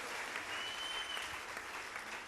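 An audience at a poetry recital (kavi sammelan) at MSU claps together, a fairly faint but continuous patter of many hands that holds evenly throughout.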